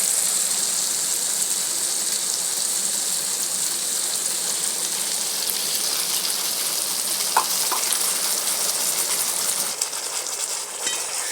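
Ginger, garlic, onion and tomato stir-frying in hot oil for a Bengali bata fish curry, a steady bright sizzle with faint scraping stirs and a few clinks, close and continuous with no talking.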